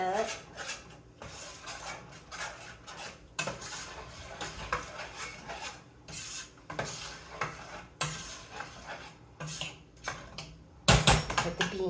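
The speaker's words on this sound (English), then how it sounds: "Alright, this is boiling. Stir it up." A spoon scrapes and knocks around a metal pot of boiling homemade chili, with irregular clanks and stirring scrapes, some soft bubbling underneath and a sharp louder clatter near the end.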